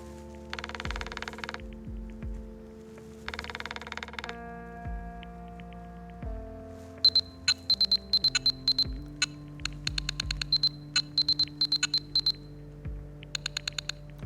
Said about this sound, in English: That's a Morse code.